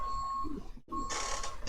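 A steady electronic beep tone sounds for most of the moment, cutting out briefly midway, then returns over a rising hiss of background noise.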